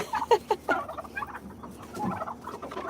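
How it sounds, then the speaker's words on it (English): Backyard chickens and turkeys clucking and gobbling nearby, a burst of several loud calls at the start followed by quieter intermittent clucks. "Yep, there's my rooster."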